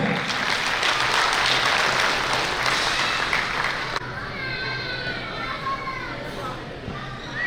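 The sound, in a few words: audience applause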